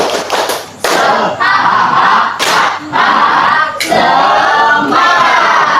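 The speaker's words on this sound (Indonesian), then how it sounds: "tepuk tangan semuanya" A classroom of pupils clapping together on a teacher's cue: loud rhythmic bursts of many hands mixed with the children's chanting voices, close and energetic.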